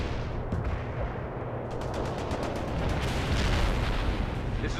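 Mortar rounds in the World in Conflict war game land in a steady, heavy barrage of booming blasts and crackling gunfire. It grows slightly louder toward the end.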